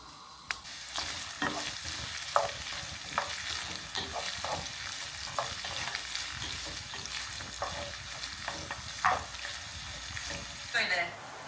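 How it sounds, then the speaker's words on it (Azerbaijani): Onions fry in oil with garlic in a home kitchen pan, giving a continuous close sizzle broken by frequent stirring scrapes and clacks at an irregular rhythm, with faint talk late on. "belə soğanı indi burada qəşəng qovururam"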